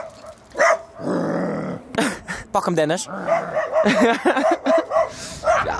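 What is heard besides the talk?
dog barking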